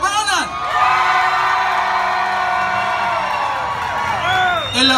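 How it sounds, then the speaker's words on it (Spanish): Crowd at an accordion battle at a San Antonio fan fair cheers and whoops loudly, with sustained yelling and a bright, dense wash of voices across the whole stretch, swelling again at the end. "el aplauso fuerte, fuerte para Hugo"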